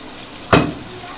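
Macaroni drops into hot oil in a pan and gives one sudden, short sizzling burst that quickly fades back to a quiet background hiss.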